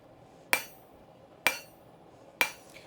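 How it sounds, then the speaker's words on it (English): Three evenly spaced ringing blows of a blacksmith's hammer on hot forged metal worked near its edge, each sharp and close with a short metallic decay, no voices. "as I'm landing my hammer for this"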